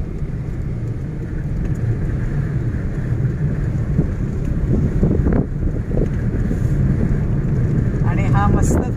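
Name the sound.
wind blowing by the sea near windmills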